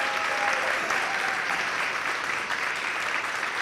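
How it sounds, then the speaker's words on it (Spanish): A crowd applauds a performer at an interview event, dense sustained clapping that stays loud and even for the whole stretch, with no break and no voices standing out. "que siga l'aplauso per Andrés Llena con tots vosaltres,"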